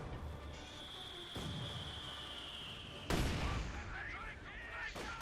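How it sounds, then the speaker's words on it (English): Mortar shells land in a Company of Heroes 2 real-time strategy battle: three sharp, booming impacts spaced a couple of seconds apart over a steady bed of distant combat noise, the middle blast the loudest and closest. "A mortar going left and right."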